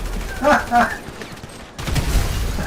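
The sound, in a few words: explosion and gunfire in GTA V Online video game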